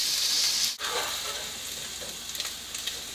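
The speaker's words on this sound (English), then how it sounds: "So potatoes has been browning for about 7-8 minutes." Diced potatoes fry and brown in an oil-filled pan, giving a steady, close broadband sizzle with a brief stir or dip near the start and a few light crackles later.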